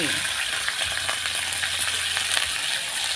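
Hot oil sizzles steadily in a pan while the sauce is cooked for steamed red tilapia with ginger and soybean paste, a dense, continuous frying hiss close up with faint stirring clicks and no talking.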